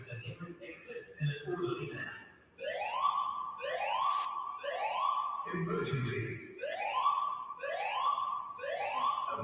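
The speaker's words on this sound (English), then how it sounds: "that's enough of the fucking sirens" Police sirens wailing at a shopping center, several overlapping rising and falling tones from nearby vehicles, loud and continuous after a brief stretch of mixed street noise, with voices faintly underneath.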